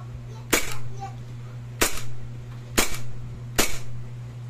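An E&C Glock 18C airsoft pistol fires four sharp single cracks, spaced roughly a second apart, each followed by a brief mechanical rattle, over a steady low hum.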